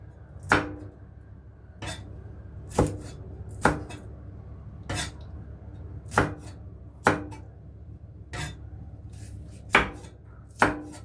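A knife slices chili peppers sharply on a cutting board, about a dozen crisp, evenly spaced strikes close up, with quiet gaps between them.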